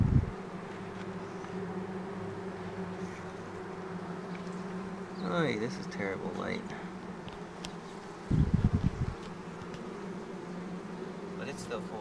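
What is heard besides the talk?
swarm of honey bees buzzing around an open hive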